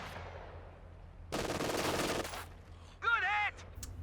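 Machine gun fire in a video game: a dense, loud burst of rapid shots lasting about a second, followed by a brief whistling, warbling game effect and quieter background tones.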